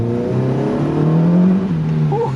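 Honda K24 engine swapped into a Mazda Miata (MX-5) revving hard under acceleration, a loud rising tone with a raspy edge at the top end before it briefly drops and climbs again.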